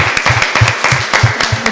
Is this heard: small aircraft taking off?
no